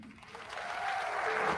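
Crowd applause used as a sound effect in an AI-made short film edit, a dense wash of clapping that swells slightly and holds steady through the brief cut, with no talking over it.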